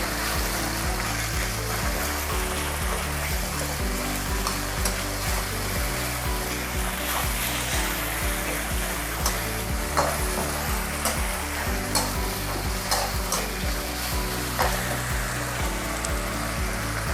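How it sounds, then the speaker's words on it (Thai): Fermented soybean paste and garlic stir-fried in a pan, a steady close sizzle with scraping stirs and clinks running throughout, no talking. "เราผัดเต้าเจี้ยวกับกระเทียมให้หอมก่อน"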